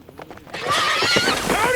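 Horse neighing loudly with hoofbeats close by as a rider pulls up, the whinny rising and falling over the clatter of hooves.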